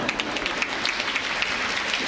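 Concert audience applauding at a jubilee celebration, a steady dense patter of many hands clapping throughout, fairly loud and continuous with no voices on top.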